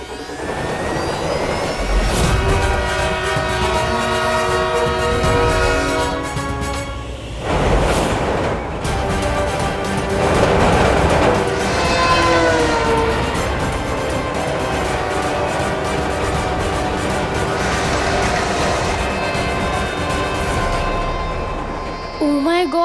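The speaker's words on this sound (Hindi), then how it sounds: "कहीं ट्रेन ने बालवीर को कुचल दिया तो?" A train rumbles past loudly with a sustained horn blaring over heavy roar and dramatic score in a television fantasy drama scene, the sound swelling and continuing for over twenty seconds.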